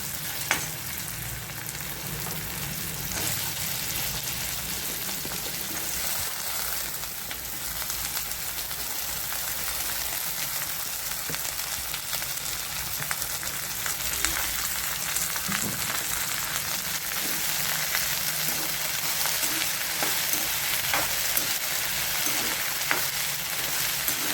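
Okra and broad beans fry in a pan with cooked-down tomato, giving a steady, close sizzle and crackle that runs without a break, with faint scraping from stirring now and then.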